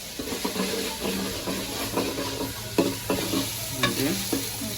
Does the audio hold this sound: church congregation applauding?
no